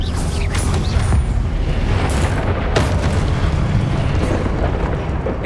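A Confringo spell explodes in combat in Hogwarts Legacy, a loud, dense booming blast that rumbles on with crackling debris and a few sharp bursts through the whole stretch, with no voices.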